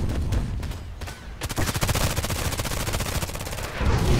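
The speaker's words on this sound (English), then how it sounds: "He's still shooting and shooting and shooting." Rapid automatic gunfire in the online shooter Contract Wars, a dense run of sharp shots rattling steadily for several seconds after scattered earlier bursts, loud and close with no talk over it.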